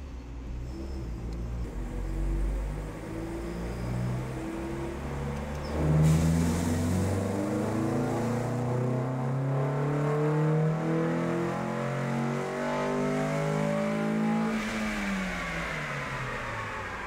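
Honda hot rod engine held at full throttle on a nitrous shot, a loud sustained rising roar with stepped harmonic climbs and a brief surge in the middle, heard alone without talk.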